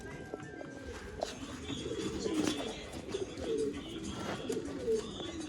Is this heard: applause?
no